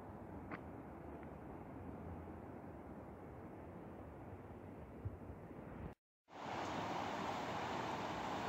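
A constant, quiet rushing of Brush Creek Falls in West Virginia fills the scene, broken by a brief cut before the steady roar resumes slightly brighter.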